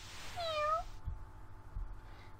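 Cat meowing in the video game Catlateral Damage: one clear, rising-then-falling meow, close and distinct, followed by a couple of soft low thumps.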